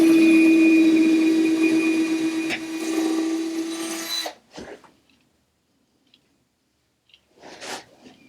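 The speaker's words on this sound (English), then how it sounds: "here we're drilling the pilot holes for securing the front to those side pieces" A power drill whines steadily into scrap wood for about four seconds, drilling pilot holes, then stops, followed by a few faint clatters and scraping sounds nearby.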